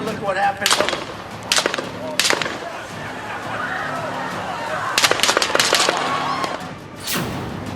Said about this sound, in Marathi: अमेरिकेत ट्रम्प यांच्यावर गोळीबार